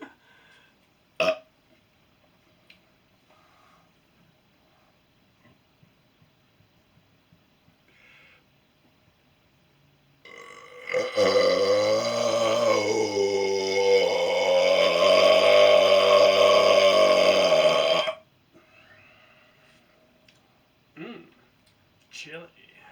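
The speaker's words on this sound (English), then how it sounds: "Like it when I have a yummy last meal that burps back up." A long, loud burp rumbles for several seconds after a chili meal, preceded by quiet outdoor rustling and a single sharp knock, with faint background noise before and after.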